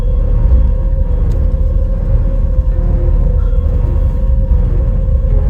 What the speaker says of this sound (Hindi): जंगल की शांति देखो भाई, बस गाड़ी की आवाज़ आ रही है और कुछ नहीं